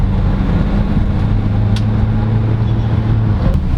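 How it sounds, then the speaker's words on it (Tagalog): Diesel engine of a 2021 Maxus G10 Elite minivan drones steadily from inside the cabin while overtaking, a continuous low rumble with a road-noise hiss and no voices over it. "overtaking, yes, since this is a diesel engine, overtaking is so easy"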